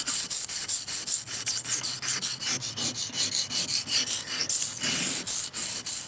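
A knife blade is sharpened on a cheap $3 sharpening stone in quick, rhythmic back-and-forth strokes, a close, gritty rasping scrape that repeats steadily throughout without any talking.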